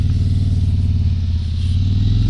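A 2022 Harley-Davidson Road King Special motorcycle at full throttle, its steady low engine drone loud and close throughout with rushing wind noise over it, no talking.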